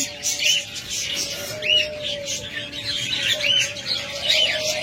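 A pair of albino budgerigars chirp and chatter close by in short, repeated warbling bursts over a faint steady hum.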